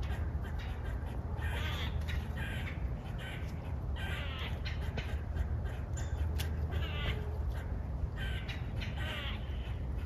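Birds give a ground-alert alarm chorus outdoors, with repeated harsh, crow-like caws scattered over a constant broadband hiss, fairly faint and distant.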